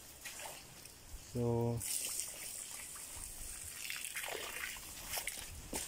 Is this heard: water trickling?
yes